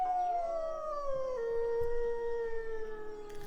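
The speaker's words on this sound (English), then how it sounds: "Oh, the Arctic wolves are also howling" Arctic wolves in a spacious zoo enclosure, heard as a long, clear, sliding howl that slowly falls in pitch, with other voices from the pack layered faintly behind it and no human voices.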